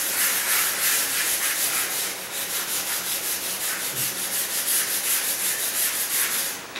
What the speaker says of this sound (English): I've got a 3-inch putty knife, and I just kind of use that to go over this area